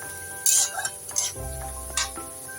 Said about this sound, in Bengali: কাজুগুলো ভাজা ভাজা হয়ে গেছে